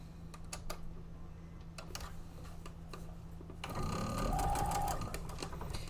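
A sewing machine stitches pieces of a quilt top in fast runs, a steady whirring patter with a faint hum underneath that grows louder and busier in the last two seconds.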